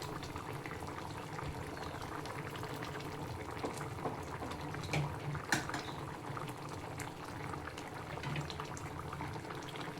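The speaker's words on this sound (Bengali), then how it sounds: "আবারও 2 মিনিট ফুটিয়ে নিলে রেডি হয়ে যাবে কাতলা মাছ দিয়ে ঝিঙে আলুর ঝোলের রেসিপি।" Catla fish curry with ridge gourd and potato simmers in a pot, giving a steady, close bubbling and gurgling boil that continues throughout with no talking.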